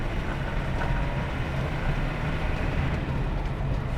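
A steady, loud engine and road drone from a 1997 Land Rover Defender 90 Wolf 300Tdi with an R380 gearbox while driving, continuous and unbroken with no distinct shifts standing out.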